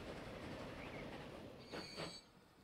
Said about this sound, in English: There's the train coming the other way